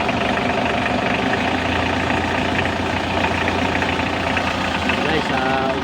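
A 2009 Mitsubishi L300 with a 2.5 diesel engine idles steadily after a cylinder head repair, a continuous low rumble that stays even and close throughout with no pauses.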